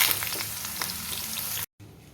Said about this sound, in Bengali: আলুগুলো হালকা করে ভাজবো।